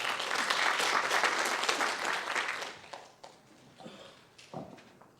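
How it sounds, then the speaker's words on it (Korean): An audience at a Hwaseong city citizens' regional meeting applauds to welcome the mayor, dense clapping for about three seconds before fading to scattered claps. "시장님을 큰 박수로 맞이해 주시기 바랍니다"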